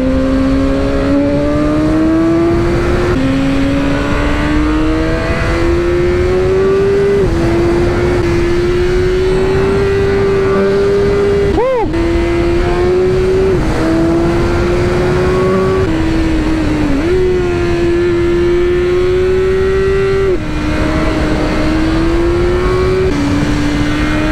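A BMW S1000R motorcycle's inline four-cylinder engine sings loud and close, its pitch climbing and dropping through a steady run of revs with a brief sharp burst midway, continuous for the whole stretch without any talking.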